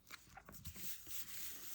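A puppy stuck on an upper floor of a house whimpers faintly from a distance, giving a few short, thin whines over a quiet room hum.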